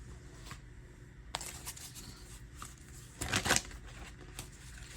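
A deck of archetype cards is shuffled in quiet, papery riffles and taps, with a denser flurry of card noise toward the end over a soft room background.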